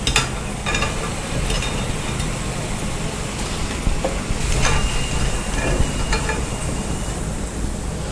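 Vegetable pakora deep-frying in hot oil, a steady dense sizzle and crackle that holds at an even level throughout with a few sharper pops, no voices over it.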